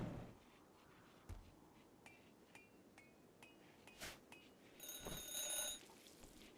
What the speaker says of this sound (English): It does actually make an alarm clock noise.